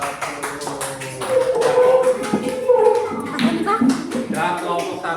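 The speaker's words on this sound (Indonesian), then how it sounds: "tepuk tangan untuk kelompok 1 dong" Students in a classroom clap for group 1 after a problem-solving game, with steady, moderately loud applause and tapping that swell and ease over several seconds, mixed with background chatter.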